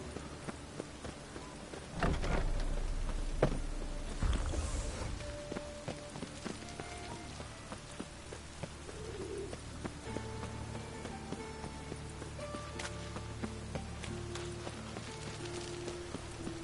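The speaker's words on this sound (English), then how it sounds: "Even the rain smells like piss in this town" Steady faint rain patters in a town in The Witcher 3 game, with scattered clicks, a couple of louder thuds and hoof-like clops over a low background.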